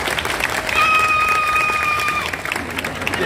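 An audience claps at a live bird show at Disney's Animal Kingdom, a steady patter of hands that runs through the whole moment, with a bird's clear whistled tones rising above it in the middle.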